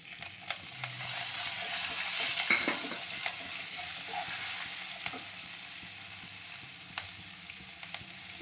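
Curry leaves and green chillies fry in hot oil in a pan for a Tamil banana (vazhakkai) poriyal, a steady close sizzle with scattered crackles and pops.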